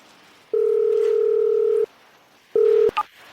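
A telephone dial tone sounds twice. The first is a long steady tone of more than a second, and after a short gap a briefer one follows. A couple of quick beeps and a click close it out, clear and loud, with no one speaking.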